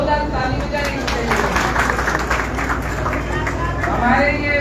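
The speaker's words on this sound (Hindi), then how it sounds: "जरा जोरदार ताली बजाइए।" Crowd at a Palwal bus stand event applauding, a dense steady wash of clapping with murmuring voices mixed in, sustained throughout at fairly close range.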